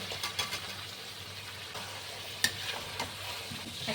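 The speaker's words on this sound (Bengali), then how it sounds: "ভাজা আলুগুলো দিয়ে দিচ্ছি" Fried potatoes tossed into a biryani masala for an onion- and garlic-free vegetarian biryani, stirred with soaked soybean chunks: a soft, low sizzle broken by a few sharp spatula scrapes and knocks against the pot.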